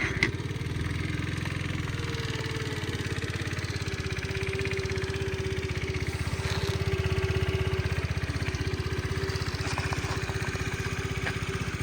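A small Honda Tact AF-68 fuel-injected scooter engine idles steadily with an even, rapid putter, fairly close and running alone without any talk.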